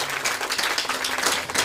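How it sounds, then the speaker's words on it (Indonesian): Congregation applause during a church sermon, a dense, steady wash of many hands clapping at close range, filling the whole short stretch without letting up. "Tepuk tangan yang meriah buat Tuhan."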